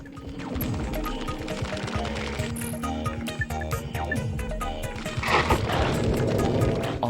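The Omega Infecto Bomb weapon in Ratchet & Clank: Up Your Arsenal bursts amid dense game combat, heard as loud, continuous crashing and booming blasts with sharp impacts layered throughout, swelling toward the end.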